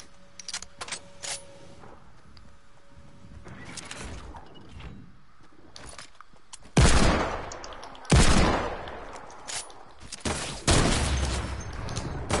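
Gunfire in an online shooting video game, with a sniper rifle in play: a few loud, sharp shots stand out as sudden bursts, separated by quieter stretches of clicks and small mechanical game sounds.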